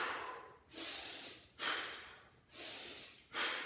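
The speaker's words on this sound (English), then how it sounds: "Hear my breathing?" Heavy rhythmic breathing during a workout exercise, four long breaths, loud and close, with regular hissing exhales.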